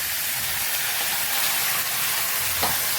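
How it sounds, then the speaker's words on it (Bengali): Crab fries in hot oil with onions, giving a continuous, even hiss of sizzling that stays close and steady with no talking. "কাঁকড়াটা কিন্তু এবার একটু ভাজবো, বেশ লাল লাল হবে"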